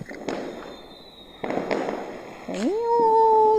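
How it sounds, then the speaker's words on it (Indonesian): Firecrackers burst at night in a village neighbourhood, three sharp distant bangs spaced about a second apart, with faint voices and a gliding whistle-like tone near the end. "Delok mercon."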